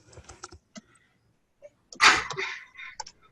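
A single sharp sneeze bursts out loud and close after a stretch of quiet keyboard typing, followed by a brief trailing breath in a classroom setting.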